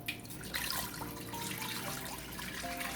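Fruit gets rinsed under a running tap, a steady faint wash of water splashing into a sink with small drips and light handling sounds, continuous and close with no voices.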